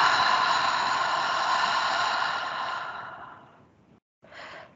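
A long, deep breath out through the nose and mouth during a guided meditation for panic relief, fading over several seconds before a brief second breath begins, close and alone.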